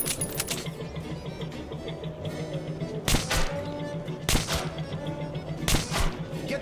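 Gunfire in Metro 2033 Redux, three sharp shots spaced roughly a second or more apart cutting through a steady game ambience, close and punchy with brief tails.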